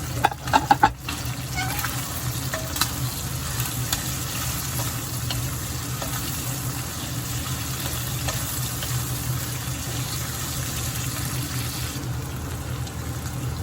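Pork and the white parts of scallions stir-frying in a pan, a steady close sizzle with a few scraping stirs at the start, continuing without talk.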